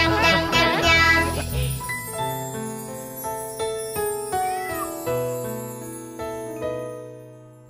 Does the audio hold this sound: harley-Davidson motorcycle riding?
no